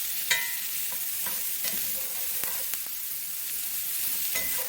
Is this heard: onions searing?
yes